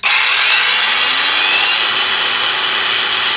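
A Revolt angle grinder runs steadily at close range, giving a loud, continuous high-pitched whine at constant speed with no talking.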